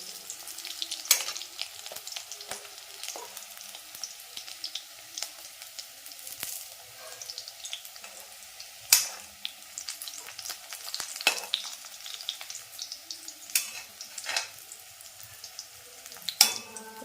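Mackerel frying in a pan of hot oil, a steady close crackling sizzle with scattered sharp pops and spatters, alone without talk for the whole stretch.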